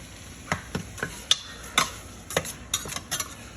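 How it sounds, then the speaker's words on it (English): Meat browning in a pan with sugar, salt, pepper and oregano, a spatula scraping and tapping in irregular sharp strokes over a faint steady sizzle, no voices. "we're going to brown this meat up with the sugar, the salt,"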